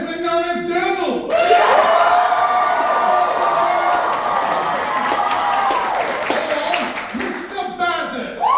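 A theatre audience bursts into sustained applause and cheering at a live musical stage performance, a dense, loud wash of clapping that holds steady for several seconds, with voices talking over it before and after.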